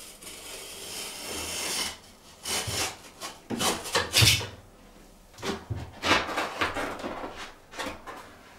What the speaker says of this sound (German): ein scharfes, sauberes Messer benutzen und jetzt die Tapete hier einmal einschneiden